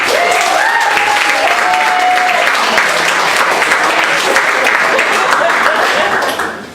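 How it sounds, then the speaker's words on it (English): A live audience breaks into sustained, dense applause for ladies everywhere at a women's history event, steady and loud throughout before tapering off at the very end, with cheering voices rising over the clapping early on. "Can we do like one round of applause for ladies everywhere?"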